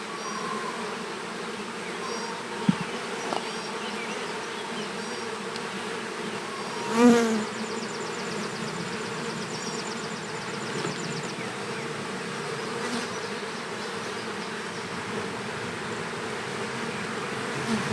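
Honey bees from a nucleus colony being installed in a hive, a dense, steady buzzing swarm close to the microphone throughout, with a few faint knocks and bumps from handling the frames.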